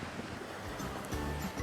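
Ocean waves wash onto the white-sand shore of Bira beach, a steady, broad rushing surf that swells slightly toward the end, with no voices.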